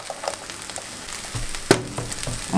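Onions dropped into plenty of hot oil in a pan for chicken curry, a steady close sizzle with a few louder pops and a sharp clatter partway through, no voices.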